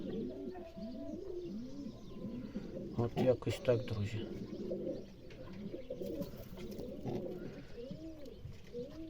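Red dwarf pouter pigeons cooing close by in repeated soft rolling phrases, with someone talking quietly over them for much of the stretch.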